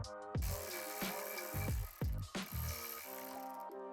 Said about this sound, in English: I'm using a 3/16 hex bit.